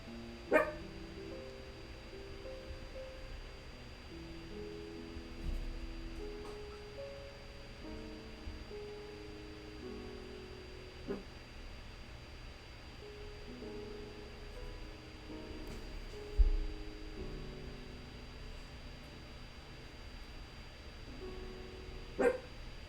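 A dog barks intermittently, with short sharp barks spaced every few seconds and a few louder ones, over a faint steady background hum.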